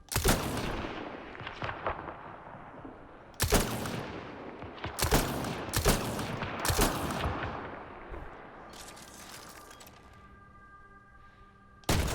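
Pistol gunfire, a Carnifex sidearm, in the sci-fi shooter Mass Effect Andromeda: sharp, loud single shots spaced a second or so apart, with quieter combat noise and a faint electronic tone between them.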